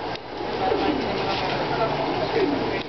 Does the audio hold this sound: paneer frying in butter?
no